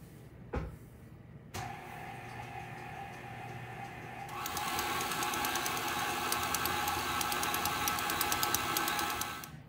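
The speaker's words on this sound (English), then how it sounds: "Now I'm going to add my flour to my cookie dough mix, a little bit at a time, mixing it up in between each time that I add the flour." Electric hand mixer beating flour into brown sugar cookie dough in a bowl, a steady motor whir that starts after a couple of soft knocks and grows louder and busier midway, running continuously to the end with no talk.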